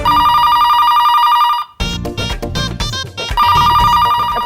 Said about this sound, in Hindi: फोन क्यों नहीं उठाता कोई?